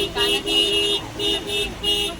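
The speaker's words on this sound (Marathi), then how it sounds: "एवढी ट्रॅफिक आहे" Road traffic near Saptashrungi Vani fort in Maharashtra, with a car horn sounding about four times in quick, rhythmic toots over a low traffic rumble.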